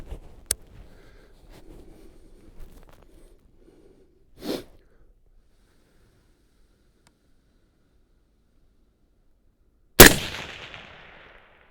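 Haenel CR6.5 long-range rifle shots, a sharp close report near the start, a duller blast midway and a loud crack with a decaying tail near the end, separated by quiet gaps.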